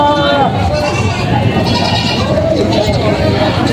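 Male goats bleating repeatedly at a livestock market in Padre Garcia, Batangas, with people talking continuously over a dense crowd of animal calls.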